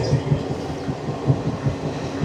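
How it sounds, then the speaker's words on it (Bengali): A passenger train running at night past Bidhannagar Road in Kolkata rumbles steadily, with soft rhythmic thumps of the wheels over rail joints recurring throughout. "রাত 3:30 আমাদের ট্রেন পার করছে বিধাননগর রোড।"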